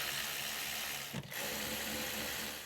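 A ratchet snugging down the rear brake caliper bolts on a 2013–2018 Nissan Altima, a steady close mechanical clicking that cuts out briefly midway, then resumes.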